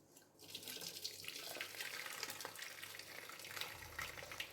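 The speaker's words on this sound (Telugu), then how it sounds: "ఇలా బాయిల్ అయింది కదా, ఇప్పుడు దీన్ని వడపోసుకుంటాం." Boiled drumstick-leaf soup water being strained, giving a steady splashing pour of liquid that runs throughout, close and fairly loud, with no talking.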